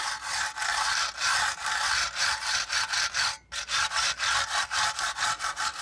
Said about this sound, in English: we want to make sure that we use the wire brush in that same manner